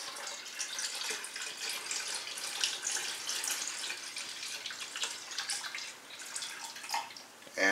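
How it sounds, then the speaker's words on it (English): Priming sugar solution poured gently into a batch of cafe latte stout, a steady close trickle and splash of liquid lasting several seconds with no talk over it. "So we're just going to go ahead and gently pour this in."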